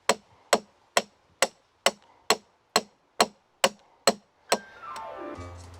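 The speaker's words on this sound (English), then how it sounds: "pounding it into the ground probably about 18 to 20 inches deep" A hammer pounds rebar into the ground beside a wooden raised garden bed: ten sharp metallic strikes in a steady, even rhythm, close and loud, followed by a brief different rumbling noise.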